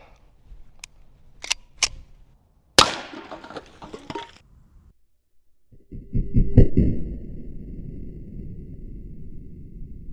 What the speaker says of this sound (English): Stepping up to our 45 ACP, shooting some 230 grain full metal jackets out of our